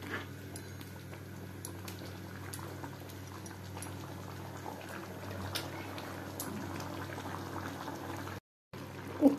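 Bottle gourd and chana dal dalma bubbling in a pot, a steady, close, even simmer that runs on alone and drops out briefly near the end.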